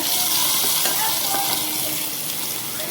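Steady, loud sizzling crackle of hot oil tempering poured over chutney, continuous for a few seconds with faint scraping, no voices.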